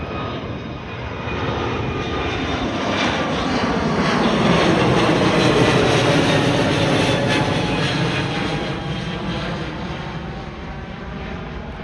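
An Airbus A321neo jet departing overhead at Gatwick, a loud broad roar that swells to a peak mid-pass and then slowly fades, with no voices over it.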